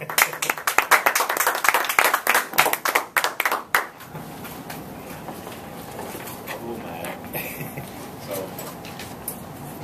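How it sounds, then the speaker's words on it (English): A small audience at a Toastmasters meeting claps to welcome a speaker, a burst of hand claps lasting about four seconds before fading into quiet room noise. "So please join me in a nice round of applause as we welcome our first speaker, Eduardo Gonzalez."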